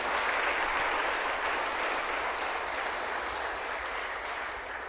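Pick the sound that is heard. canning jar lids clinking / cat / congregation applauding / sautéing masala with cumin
congregation applauding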